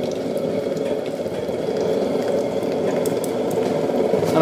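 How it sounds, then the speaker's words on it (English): Water boiling in a pot over a waste oil burner, a steady rolling, bubbling roar with a low continuous rumble beneath it, loud and close, unchanging from start to finish. "obviously it's hot enough to boil water."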